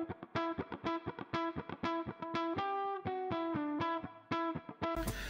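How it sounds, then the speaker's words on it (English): A distorted electric guitar plays a phrase of plucked and sustained notes, run mono-in, stereo-out through a room reverb pedal, washed in roomy reverb that lingers between notes. "If I put the room reverb on that, mono in and stereo out, it sounds like this."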